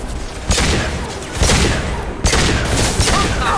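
Gunfire from the Mass Effect 2 video game, loud sustained bursts of rapid shots with sharp onsets repeating across the clip, dense and close.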